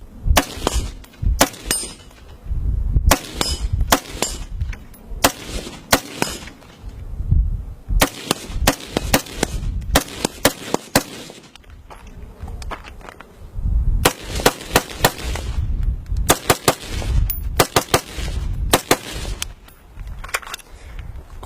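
Rifle fire from an Aero Precision M4E1 in a video game, sharp close shots in quick bursts and clusters separated by brief pauses.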